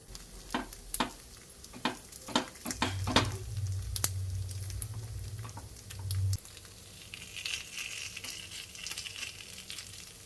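Fasting appe cooking in ghee in an appe pan, with a few sharp clicks of a utensil and a soft steady sizzle that rises and fades as the pan is handled.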